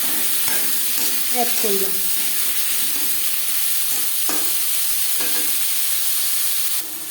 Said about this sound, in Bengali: দশ 15 সেকেন্ড ভেজে নেওয়ার পর দিয়ে দেবো পেঁয়াজ কুচি, টমেটো।